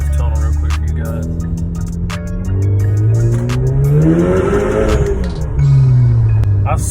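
Hyundai Sonata 2.0T with an HKS SQV4 blow-off valve, engine revving up and falling under load across several gear pulls, with a brief high hiss near the end and a short tire squeal, loud and close from inside the car.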